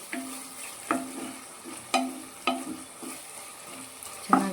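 Tomatoes cooked down in oil in a pan sizzle softly while a spoon scrapes and stirs in several distinct strokes, each a short clack over the low frying hiss.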